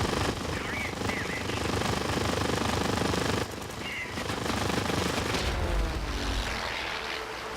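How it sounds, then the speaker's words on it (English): Anti-aircraft fire in the World of Warplanes air combat game: a loud, sustained stream of rapid gunfire crackle over a constant aircraft engine drone, with a short dip partway through before the barrage resumes. "Coming under aircraft fire."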